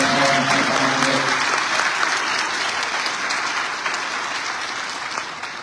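An audience at a Pathway Academy commitment ceremony breaks into loud, dense applause that carries on steadily and tapers slightly toward the end, with no speech over it.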